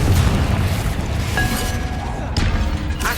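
Confringo blasting spell going off in the video game Hogwarts Legacy, a few booming bursts over a noisy battle backdrop, with a sharp bright blast near the end.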